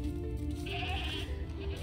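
Goats bleat in the Mr Prepper farm game during shearing and milking, a steady game-audio bleat over a constant low background hum, with no talk in this stretch.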